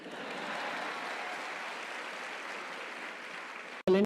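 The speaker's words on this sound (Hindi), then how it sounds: "अब इनका जवाब अगर आपको पसंद आए तो इनके लिए तालियां बजाना।" An audience at a student fest applauds, a soft, even patter of many hands heard from a distance and sustained for several seconds, cut off abruptly by a brief louder sound at the end.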